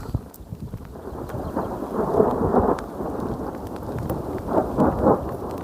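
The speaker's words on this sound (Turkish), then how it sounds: "Gök gürültüsü devam ediyor." Low rumbling thunder rolls on continuously, swelling twice into louder peaks, with steady rain noise throughout and no voices, in Güzelyurt, Cappadocia, Turkey.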